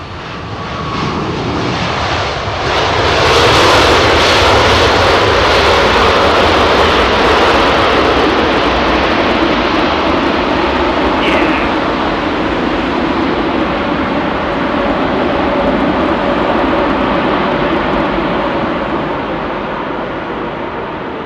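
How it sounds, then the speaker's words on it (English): An Aeromexico Boeing 787 Dreamliner's jet engines roar steadily and loudly at Heathrow's runway 27R. The thrust builds in the first few seconds and then holds a broad, sustained rumble with no voices. "Aero Mexico Dreamliner, the original Screamliner."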